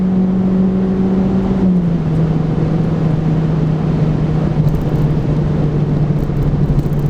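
A Renault Clio III RS Red Bull Edition RB7 hot hatch pulls hard on the petrol toward 7,000 RPM on a smooth road. Its engine drone is loud, close and continuous, easing slightly lower partway through, with no voices.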